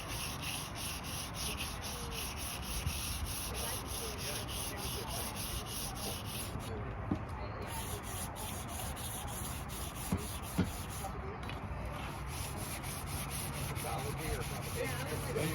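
A garden tool is scrubbed clean with Blaster penetrating oil, giving a steady, continuous rubbing and scraping texture at a fairly constant level throughout, with a few faint knocks.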